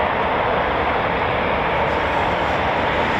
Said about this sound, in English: So there's our EJ200 engine starting up.